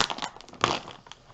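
A gallon plastic zip bag crinkles and rustles close by in irregular bursts, a crisp crunchy handling sound with no talking.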